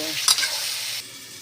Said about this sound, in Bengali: আমি ঝিঙেটা সুন্দর করে ভালোভাবে কষায়ে ভেজে নিব